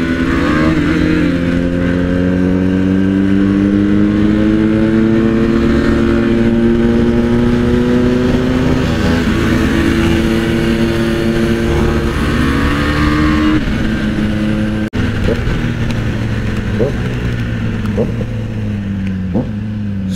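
A Kawasaki Z900 sport motorcycle engine roars loudly and continuously, its pitch climbing and falling through repeated revs over a long stretch, close and powerful.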